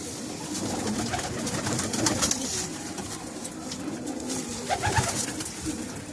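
Black Diamond pigeons, a short-bodied breed kept in large numbers, coo in low, overlapping rolling calls, close and continuous, with occasional rustling and faint distant chirps.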